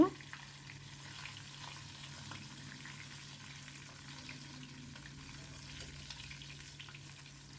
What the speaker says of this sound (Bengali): এবার আমি সমস্ত মাছগুলোকে ভেজে নেব